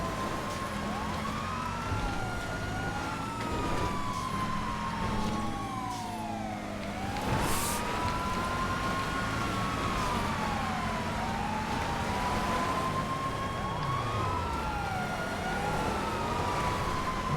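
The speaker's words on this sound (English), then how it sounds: "Sirens are on." Police car siren in a GTA racing game wails continuously, rising and falling in repeated sweeps over steady engine and road noise, with no talk.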